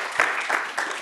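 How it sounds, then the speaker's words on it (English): A brief burst of audience applause at a Python conference talk, a few loud claps standing out within about a second of clapping. "Yes, that's worthy of applause."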